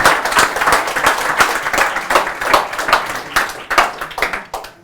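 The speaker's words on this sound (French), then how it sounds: "On l'applaudit." An audience at a live French conference applauds in a loud, fairly rhythmic burst of clapping, swelling in waves and then tapering away near the end.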